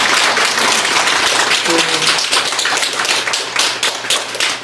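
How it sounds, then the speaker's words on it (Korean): A lecture audience at an education forum claps together in a loud, continuous burst of applause that carries on throughout, close and dense. "박수 좀."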